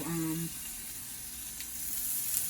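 Butter sizzles in a pan around a Jamaican-style French toast omelette, a steady soft frying hiss throughout with a brief voice-like tone at the start.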